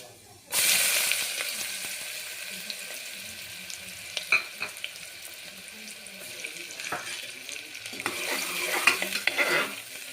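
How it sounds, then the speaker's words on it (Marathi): Cumin and finely chopped onion dropped into hot oil for a Khandeshi mutton curry, a sudden burst of hissing sizzle that settles into steady frying with scattered stirring clinks and scrapes. "तेल गरम झालेलं आहे, त्यात आपण टाकूया जिरं आणि कांदा"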